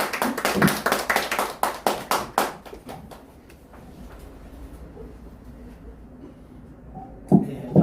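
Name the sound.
audience clapping in welcome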